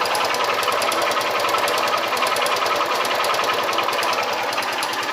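A Honda Titan 150 motorcycle engine idles with a fault noise, a loud, close, steady rapid knocking and rattling chatter running continuously without pause.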